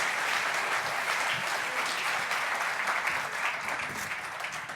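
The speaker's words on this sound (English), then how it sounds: "please give a big round of applause for Joe because he does such a great job with product" A large audience at the Longaberger 125th anniversary homecoming applauds a speaker, a thick, sustained roar of many hands clapping that stays steady and loud throughout, easing slightly toward the end.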